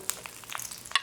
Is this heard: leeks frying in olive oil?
yes